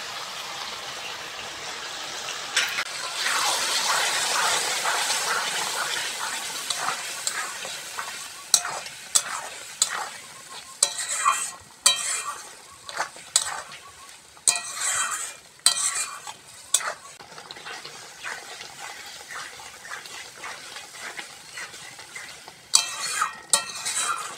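Tomato paste goes into a frying pan of jackfruit curry base and is stirred through: first a broad hiss of sizzling, then a long run of irregular spoon scrapes and clatters over continuous frying, with no voices.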